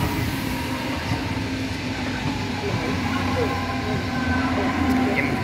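An S-Bahn commuter train at a station, heard as a steady rumbling rail roar with faint squeal tones, fairly loud and continuous, with people talking faintly in the background.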